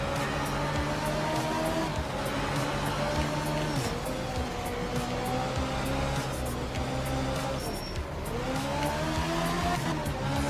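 A car drifts sideways at low speed in a racing game, its engine droning steadily with long tire squeals rising and falling throughout, loud and continuous with no talking.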